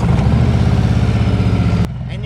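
A Harley-Davidson motorcycle idling close by, a deep, loud, lumpy engine rumble with steady pulsing beats, cutting to a quieter background after about two seconds.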